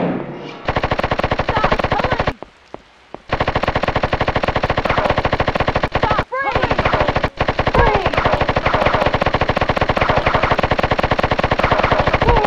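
Sustained machine gun fire rattles almost without pause through a gun battle in the PS1 game Urban Chaos, with dense rapid bursts broken only by two brief gaps, loud and close.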